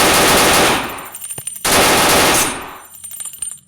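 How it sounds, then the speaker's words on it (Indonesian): A World War 2 machine gun in a video game fires two loud, close rapid bursts with a short gap between them, and each burst trails off into a fading echo. "Tarik, tembak lagi."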